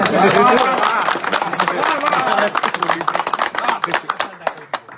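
A crowd claps in a loose, uneven burst at a tense gathering with police present, the claps sharp and scattered after loud overlapping shouting and talk at the start.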